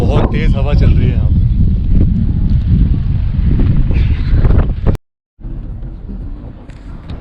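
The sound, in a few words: strong wind blowing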